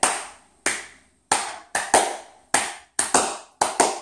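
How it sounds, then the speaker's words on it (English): A group of schoolchildren clapping the rhythm of Row, Row, Row Your Boat in a classroom, about nine sharp, close hand claps in an uneven, song-like pattern, each ringing briefly before the next. "They're going to clap it."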